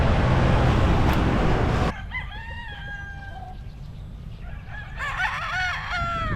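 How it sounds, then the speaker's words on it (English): Fighting cockerels reared for battle in a Davao City slum in the Philippines crow loudly and close by, two drawn-out crows following an opening burst of heavy broadband noise. "More prime cockerels being reared for battle."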